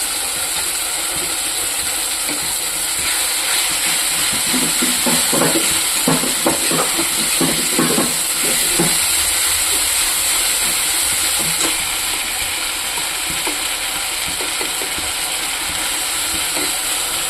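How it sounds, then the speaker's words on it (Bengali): Onion with green chilli, ginger, garlic and dried chilli masala fries for fish curry, a loud steady hiss with a stretch of rapid scraping stirring strokes in the middle. "দেখুন বন্ধুরা, মশলাটা ভাজা হয়ে গেছে"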